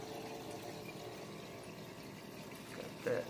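A water filter runs in a ball python terrarium, a faint steady trickle and gurgle of moving water with a slightly louder splash near the end.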